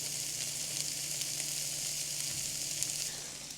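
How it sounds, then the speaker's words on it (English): Chopped vegetables and mushrooms fry in a pan, giving a steady, soft sizzle that holds evenly close up before easing off slightly at the end. "now that we got everything in the pan frying up"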